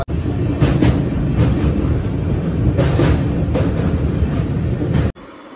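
Steady rumbling noise fills the inside of a moving train, a loud continuous drone with faint rhythmic clatter that cuts off abruptly near the end.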